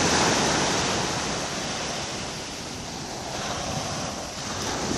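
Waves break and wash over a pebble beach at St Paul, Réunion, at sunset. A loud, continuous surf roar with steady rolling swells and some wind.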